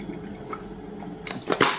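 Hot water poured into a cup of Nescafe Espresso coffee with almond milk, a short splashing pour rising near the end after quiet drips.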